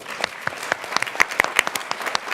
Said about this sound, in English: We can keep applauding for her, yeah.